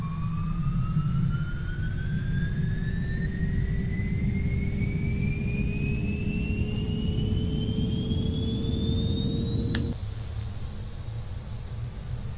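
A jet engine on the right side of an airliner spools up in the X-Plane 10 flight simulator, a steady rising whine climbing in pitch over a constant loud rumble, with a brief click near the end and no talk.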